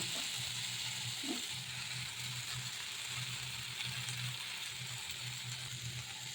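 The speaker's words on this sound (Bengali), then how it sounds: "এবার এই মশলার পেস্টটা আমি তরকারির মধ্যে দিয়ে দেবো।" Spice paste stirred into a curry in a hot pan, a faint, steady sizzle and bubbling fry with soft scraping, quiet and continuous with no talking.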